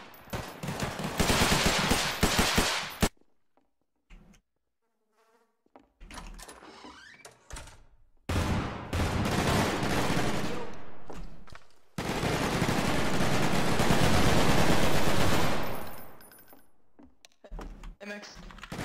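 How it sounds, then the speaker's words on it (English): Gunfire in the Garry's Mod video game comes in loud sustained bursts of rapid shots, broken by sudden silences and shorter clatters, with some faint voices in between. "Wait, guys, they're shooting us."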